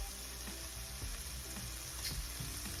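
Stuffed chicken breasts fry steadily in a pan, a continuous close sizzle with faint crackles and light clinks, no talking.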